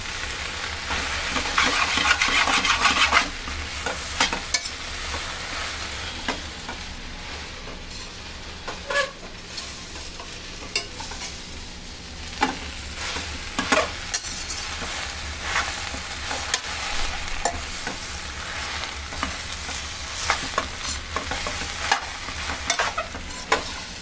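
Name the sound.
frying and stirring gongura leaves in a pan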